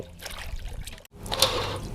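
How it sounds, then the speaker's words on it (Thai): Water with tapioca starch drains off freshly washed squid in a kitchen. A close, continuous splashing trickle runs with one brief break, and nobody talks. "เทน้ำแป้งมันออกเลยครับ"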